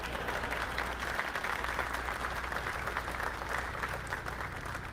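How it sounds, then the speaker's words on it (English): Quiet, distant audience applause rises from a crowd in a hall in Fort Worth, Texas: a steady, soft bed of many hands clapping with no distinct voices. "You can applaud for that."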